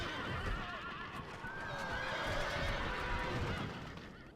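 Horses neigh and whinny in the Rome: Total War battle game, with hoofbeats clip-clopping underneath. Several loud overlapping whinnies rise and fall over a steady bed of battle noise.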